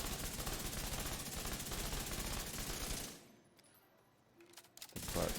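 The Chameleon gun fires a rapid sustained burst in a video game, dense and loud for about three seconds, then cuts to quieter sounds and a few sharp clicks before loud fire resumes.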